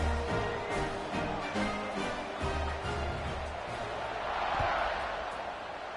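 A stadium crowd in the NCAA 26 football video game roars and murmurs steadily through the whole stretch, a dense wash of noise with scattered thumps. A commentator's voice runs over it.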